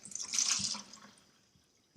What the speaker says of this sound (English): as I pour this water into the tea bag